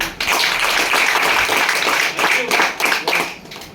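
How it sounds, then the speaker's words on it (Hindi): A crowd at an AWPL motivational meeting claps loudly for first-time attendees, a dense burst of hand claps that thins out toward the end, with a voice briefly heard. "नए लोगों की जोरदार ताली दीजिए"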